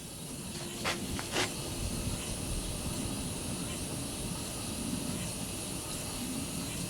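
A small model steam engine hisses steadily, a continuous broadband wash of steam noise with a few brief sharper puffs near the start, close by and without talk.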